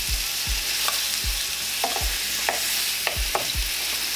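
Country-style pork ribs searing in a hot pan give a loud, steady hiss, punctuated by about eight dull thumps and knocks as the meat is moved, close and with no speech.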